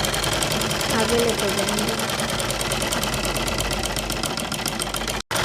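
A sewing machine runs a kurti seam on a boat-neck kurti with sleeves, giving a fast, steady mechanical whirr with rapid stitch ticks. A voice talks over it, and the machine stops briefly near the end.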